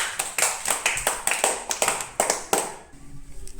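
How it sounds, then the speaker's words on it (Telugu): Children in a classroom clap together in a quick series of sharp claps that fade near the end, with a little background noise after. "క్లాప్."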